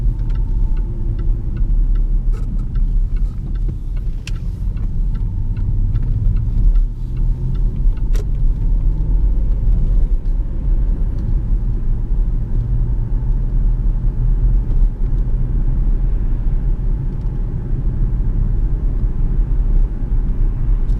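A Jaguar XF 5.0 V8 S accelerates in sport mode, heard from inside as a loud, continuous low engine rumble with road noise and occasional faint ticks, without speech.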